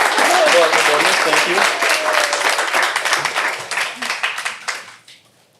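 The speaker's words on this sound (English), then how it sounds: "How about one more round of applause?" Audience applause at a business talk on the future of work, loud full clapping that gradually thins into separate claps before fading out, with a voice briefly speaking over it.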